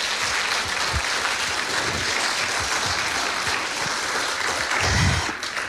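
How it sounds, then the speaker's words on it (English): Wedding guests give a round of applause in a reception room, a steady, dense wash of clapping from many hands that holds at an even level for several seconds. "I think they deserve a round of applause."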